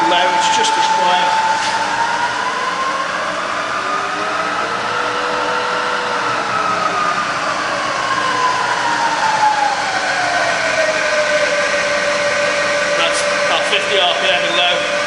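Bridgeport milling machine with a 42-inch table running in low range, a steady close motor whine with a drifting tone over a low hum, loud and continuous.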